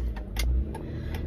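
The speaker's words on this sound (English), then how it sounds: "It's heavy traffic." Car engine humming low and steady in heavy traffic in a central business district, with a few faint passing swishes above the continuous rumble, no talking.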